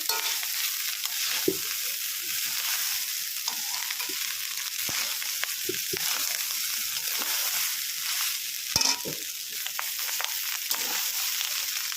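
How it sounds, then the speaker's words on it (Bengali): Rice frying in a pan is stirred steadily, a constant hiss of sizzling broken by repeated scraping and clacking strokes of the spatula, close up and with no voices. "ভালো করে ভাতটাকে নেড়ে চেড়ে নেব।"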